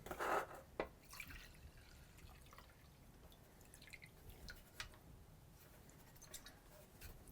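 Fuel drips and trickles from the tank of an abandoned scrap machine into a small pot, a burst of pouring at the start and then quiet intermittent drips with faint background noise.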